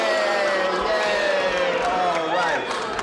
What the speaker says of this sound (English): They're booing you, Gene.